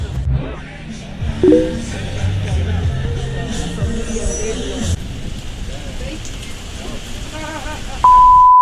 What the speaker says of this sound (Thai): ฝนก็ตกหนักมากนะครับ